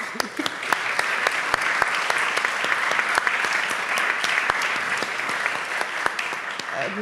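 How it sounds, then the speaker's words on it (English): Steady applause from a crowd, dense clapping sustained throughout at an even level. "So please give her a warm applause."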